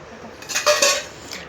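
Dishes, pots and pans clatter close by during washing, a short burst of metallic clinks and knocks that fades quickly, with no one speaking.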